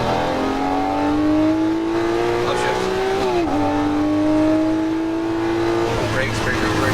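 Lamborghini Murcielago LP640 V12 at full throttle on Las Vegas Speedway, a loud continuous in-car engine drone climbing steadily in pitch with a brief dip at a gear change, a voice talking over it.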